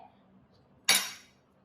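A spoon strikes a pan once with a bright metallic clink while masala Maggi noodles with chili are stirred. A faint low background lies under the hit, which rings out briefly.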